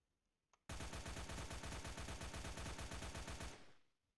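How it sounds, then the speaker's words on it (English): An assault rifle in a video game fires a rapid, evenly spaced burst of loud shots lasting about three seconds, then the final report rings out and fades. "let's first take a look at how fast the assault rifle fires by default"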